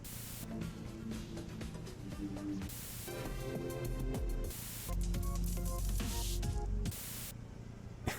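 Music plays continuously through a car radio in the video game Ranch Simulator, with shifting tones and brief static-like bursts between segments, steady and moderately loud with no talking.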